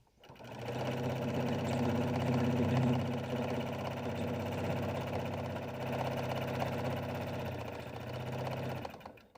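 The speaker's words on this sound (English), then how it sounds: "step to my machine and stitch all the way around my entire hexie pocket, securing everything to the front of my bag" A sewing machine hums continuously and closely as it stitches around a hexagon-patch pocket onto the front of a fabric carry-all bag. The drone is steady and unbroken until it stops at the very end.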